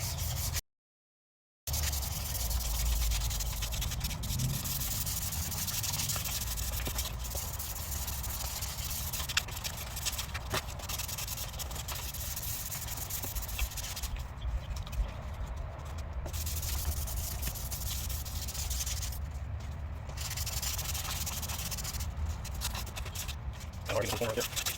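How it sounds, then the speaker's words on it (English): Continuous close hissing scrape of sandpaper on a foam block rubbing a car headlight lens, steady and unbroken apart from a short gap near the start. "Got my sandpaper wrapped around that foam block. We're going to get the sanding."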